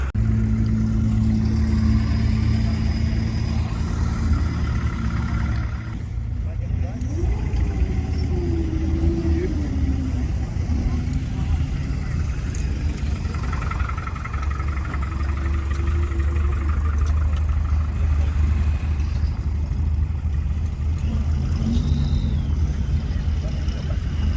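A steady, throaty American 4x4 car engine idles and rumbles close by at a vintage vehicle event at Scone Palace, Scotland, a deep continuous drone with slight shifts in pitch, running for the whole stretch.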